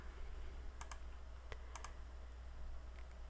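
A computer keyboard is tapped while entering a number in Photoshop: a few quiet, sparse key clicks over a low hum.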